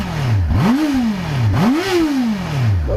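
A 2023 Honda CBR650R sits stationary while its engine is blipped twice, each rev rising sharply and falling back to idle, loud and close with no talking.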